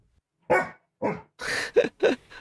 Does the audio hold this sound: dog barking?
yes